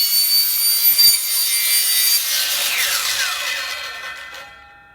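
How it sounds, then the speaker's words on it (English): A power saw cuts through vinyl soffit material with a loud, continuous, rasping whine that holds for several seconds before tapering off as the blade winds down. No one speaks. "my soffit material's a little wide, so my saw didn't cut all the way through it"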